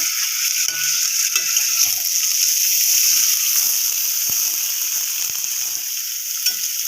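Soaked chickpeas frying with spices in a pan give a steady, close, loud sizzle, with soft scraping stirs and small clicks running through it.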